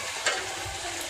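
Chicken curry, nearly cooked, simmering in an uncovered pan, a soft steady sizzle with one brief scrape near the start, faint and close.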